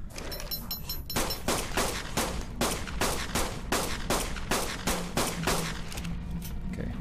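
Rapid bursts of gunfire from ARK: Survival Evolved, fought in a swamp cave, ring out in a steady rhythm of about a dozen loud, close shots across the stretch, with no voices.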